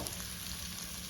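Onions sizzle steadily in a hot skillet for a steak dish, a continuous close frying hiss with faint crackle and no talking.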